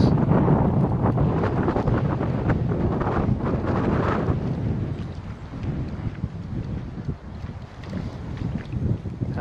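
A strong windstorm during a fishing trip buffets the microphone with loud, continuous roaring gusts, heaviest at first and then slightly calmer but still unsettled.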